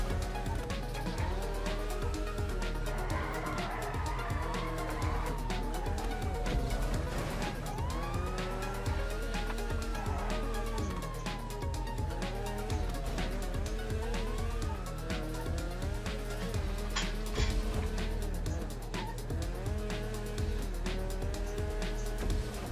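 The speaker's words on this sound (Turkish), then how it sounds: "Ya bu araba kıvrak, çok kıvrak bu araba." A car in GTA 5 Online drives hard with a sustained engine roar, and rising and falling squealing tones sweep over it like tire squeal or a siren, with constant clatter throughout.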